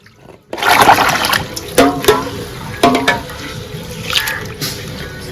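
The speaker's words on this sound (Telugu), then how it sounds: "ఇప్పుడు బియ్యాన్ని మనము 2 సార్లు చక్కగా కడుక్కున్నామండి" Rice being washed by hand in a bowl of water gives steady sloshing and splashing, with a few sharper swishes and drips, close and fairly loud.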